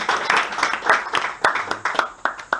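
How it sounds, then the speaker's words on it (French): Audience applauding a top-of-class student at a church gathering, a short burst of uneven hand claps from a modest crowd, fairly close and continuous without talk. "Applaudissons d'abord pour lui, il était premier de sa classe."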